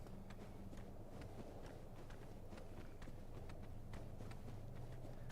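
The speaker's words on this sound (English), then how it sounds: "I can hear his little feet scurrying." Rapid, pattering footsteps of a small enemy scurrying in Dark Souls Remastered, a quick irregular run of light taps over a steady low game ambience, faint and continuous.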